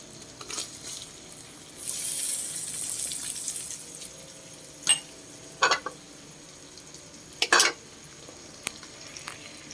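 Garlic frying in a pan, a steady sizzle near 2–3 s, then a few brief sharp clatters of stirring over a low background hiss.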